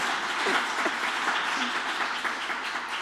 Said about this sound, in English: So give my chairman a round of applause